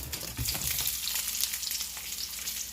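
Onions frying in a pan for Salisbury steak, a steady close sizzle and crackle that runs unbroken, with no voices.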